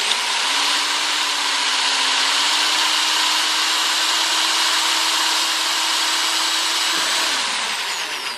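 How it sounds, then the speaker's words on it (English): A power drill bores a hole through a ribbon organizer, a loud continuous close whine with grinding hiss that runs steadily for about seven seconds, then winds down and stops. "I'm going to just eyeball it and drill a hole right here through this one."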